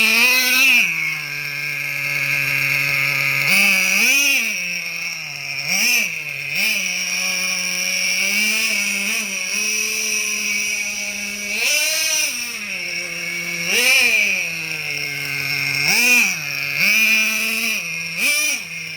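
A Traxxas Revo 3.3 nitro RC truck engine running slightly rich, buzzing with a high, raspy whine that repeatedly surges and drops as the throttle is blipped, with short bursts of revving between steadier stretches and no talking.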